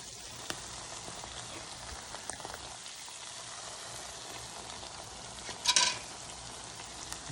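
Ackee and spam fry Jamaican style in a pan with a soft, steady sizzle and crackle heard close up, and a brief louder spatter near the end.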